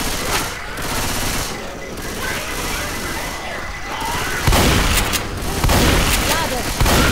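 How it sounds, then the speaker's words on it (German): Gunfire and a grenade blast in the video game Left 4 Dead 2, a dense continuous fusillade with a heavy boom near the middle, loud and close, while game character voices shout over the shooting. "Granate!"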